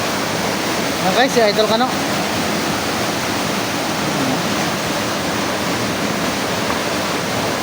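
Duyom Falls in San Agustin, Romblon pours in a constant, loud broadband rush of falling water, with someone speaking briefly near the start.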